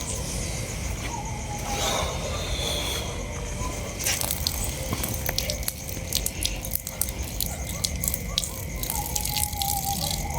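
Water splashes and drips steadily, with a wet, uneven pouring sound that grows busier and more crackly in the second half.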